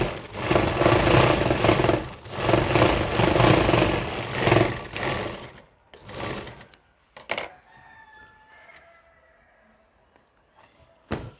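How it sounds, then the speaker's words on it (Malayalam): An electric sewing machine stitches a churidar seam in a long, loud whirring run of about five seconds, followed by a brief burst, then clicks and handling sounds as the fabric is turned and the presser foot lifted. "ഈ പ്രഷർ ഫുട്ട് പൊക്കി കൊടുക്കുക നമ്മൾ തിരിച്ച് പിടിച്ചതിന് ശേഷം വീണ്ടും ഒന്ന് സ്റ്റിച്ച് ചെയ്തിടുക"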